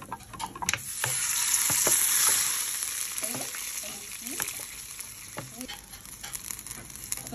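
Garlic sizzles in a hot pan, and a surge of hissing follows as vinegar is poured in, then fades into a softer crackle with stirring taps and scrapes.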